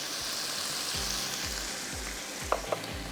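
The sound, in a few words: chicken frying with spices in a pan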